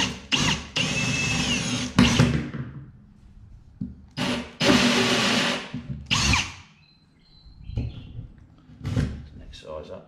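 A power drill whirs in several bursts, loud and close, drilling seat holes in a 25-year-old Quintrex 475 Cuddy Cab boat, with pauses between runs and a few clunks and knocks in the gaps.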